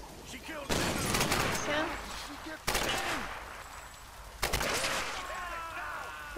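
Rapid bursts of gunfire in the video game Tomb Raider, three sharp volleys with fast repeating shots, loud and close, with game voices and a player's talk mixed in between.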